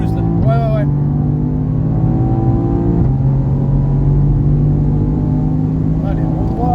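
Onboard a race car on a circuit at Mireval, the engine drones loudly and steadily, with pitch shifts as it accelerates through gear changes. A brief whine sounds early, and a voice may be faintly present under the engine.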